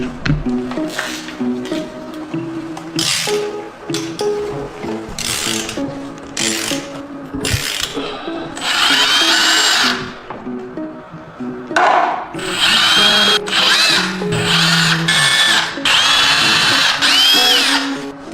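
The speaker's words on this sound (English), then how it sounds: "Let's unbolt this now." A power tool unbolts parts of a Yamaha R1 motorcycle engine that has a spun crankshaft bearing. The drill buzzes loudly in repeated bursts, some short and some sustained, mixed with clanks of metal parts in a workshop.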